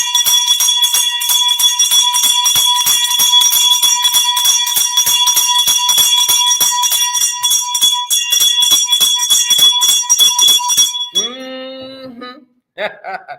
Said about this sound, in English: Ring the bell for the first lady.